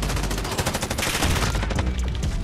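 Dense, continuous machine-gun fire from an MG34 in a Modern Warfare Cranked match on Condor Hideout: rapid overlapping shots that stay loud and close for the whole stretch, with no pauses.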